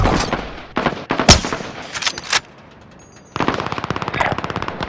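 A sentry gun fires rapid bursts in the video game Call of Duty: Modern Warfare, loud and close, with a brief lull before a steady stream of automatic shots resumes.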